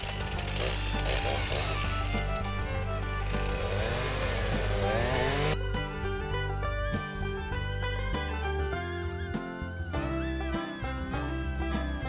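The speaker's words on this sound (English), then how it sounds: "The blade of my chainsaw is not big enough," A chainsaw cuts through a windblown tree, its engine a loud, steady, close roar that shifts pitch partway through as the blade works the wood.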